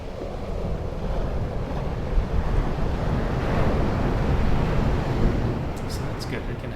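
Recorded beach waves play back from an ambient sound app as a steady, rushing surf wash with gentle swells in loudness, heard through a speaker.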